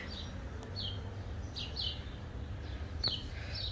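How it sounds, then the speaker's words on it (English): Birds sing outdoors in a spring setting with cherry blossoms, giving several short, high chirps spread across the moment. They are faint and a little distant over a low, steady background rumble, with no talk. "You could hear the birds, I'm sure."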